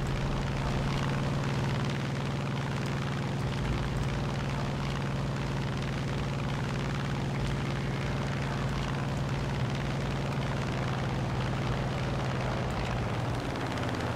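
A propeller aircraft engine in the War Thunder video game drones loudly and steadily throughout, a continuous close roar with a low hum and no talking over it.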